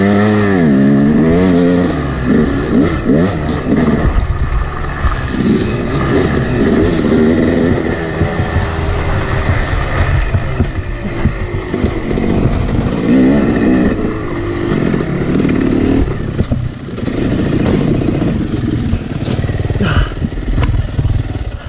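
Off-road dirt bikes ripping along bumpy trails at Hollister Hills, engines loud and close the whole time, revving up and down with clatter over rough ground; one bike has a blown seal and no front brake.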